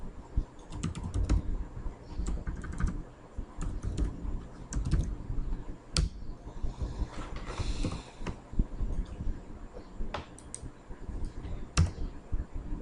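Steady computer keyboard typing while code is written, with rapid irregular key clicks and occasional louder keystrokes running throughout, close and clear with no talking.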